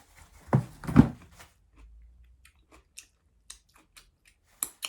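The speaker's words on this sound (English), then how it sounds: "I'm really sorry if people hate the sound of chewing" Close, wet chewing of raw cucumber, with two loud crunchy bites near the start followed by softer, sparse mouth clicks and smacks in a quiet room.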